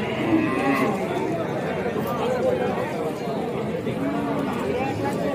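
Cattle at a crowded Qurbani livestock market in Khagrachari, their low animal sounds mixed into dense surrounding chatter as people talk nearby over the steady murmur of the crowd.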